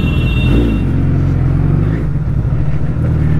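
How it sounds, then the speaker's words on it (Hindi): A Suzuki Hayabusa motorcycle engine idles loudly and close by, with a deep, steady rumble throughout and no voices. "इनको एक बार सुनाते हैं बाइक की आवाज।"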